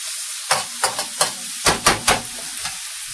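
Filipino lumpia filling stirred in a pan over faint sizzling, with a series of distinct scraping strokes and clacks, some in quick pairs, standing out loudly against a quiet background.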